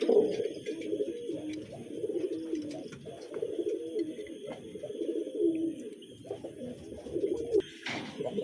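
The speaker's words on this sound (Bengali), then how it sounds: "নটটা প্রচুর ডাকাডাকি করতেছে।" A male pigeon coos in low, rolling calls near a hen, continuing almost nonstop at close range, with faint speech in the background.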